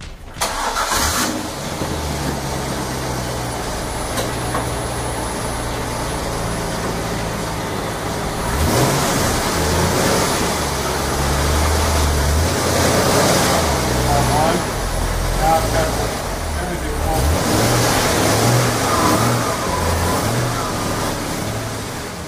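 A car rolls forward onto weight distribution scales with its engine running steadily throughout, the engine note rising slightly midway as it pulls ahead, close and moderately loud.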